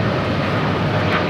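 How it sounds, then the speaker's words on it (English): An Air Canada Boeing 787-9 Dreamliner in Disney Wish livery takes off from runway 25 right at LAX, a loud, steady, broadband jet engine roar that fills the whole moment with no talking. "That was Air Canada 788 taking off to Toronto on a 787-9 Dreamliner in the Disney Wish livery"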